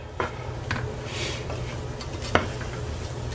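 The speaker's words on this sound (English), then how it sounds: "So we're getting our onions sauteed." Chopped onions sautéing in a pan for Spanish rice, a steady close sizzle with repeated scraping stirs of a utensil against the pan and one sharp clink near the end.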